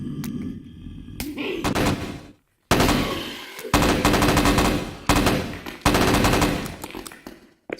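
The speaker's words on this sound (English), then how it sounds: "Let's see how the guns work." Guns fire in the Lost Blacktop VR game, with loud, close bursts of rapid automatic fire broken by short silent gaps.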